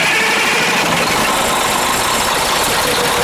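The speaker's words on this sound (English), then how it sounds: "now start engine" A 40-foot bus engine idles in a steady, loud, even rumble with a broad mechanical hiss, continuous throughout and without speech.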